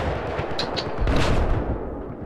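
Gunfire in the Battlefield 4 video game on the Zavod 311 map during a 64-player Conquest match, a loud rapid burst of shots filling the short clip with no talk over it.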